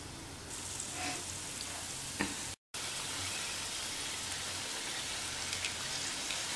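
Somas, a sweet pastry, frying in hot oil make a steady, soft hiss and crackle like light rain, continuous throughout with a brief cut of silence midway.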